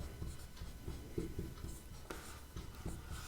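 Pen scratching across paper while working a Class 10 math problem on average weights, a steady run of short strokes and taps, close and fairly quiet, with no talk.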